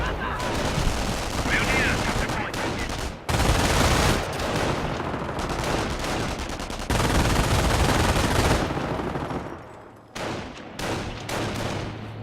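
MG42 machine gun fire in a multiplayer shooter match, with long sustained bursts and other gunfire overlapping at close range, broken by short pauses and sharp individual shots near the end.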